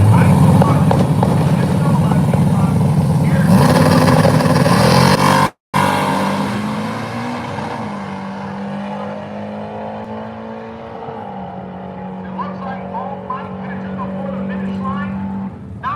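850 class drag race cars on a quarter-mile strip, a loud, continuous engine roar that fades after a brief cut, leaving a steadier, distant engine drone.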